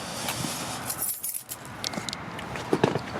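Metallic keys jingle and clink in scattered bursts, close by, with a faint rustle between the shakes.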